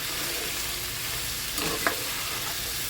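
Vegetables stir-fried over a high flame hiss loudly and steadily, and a couple of brief scrapes and clinks from the stirring stand out partway through.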